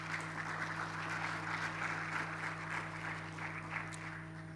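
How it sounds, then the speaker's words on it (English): An audience at a business conference claps to welcome a speaker, faint and distant applause over a steady electrical hum in a large hall. "Shall we welcome him with a round of applause?"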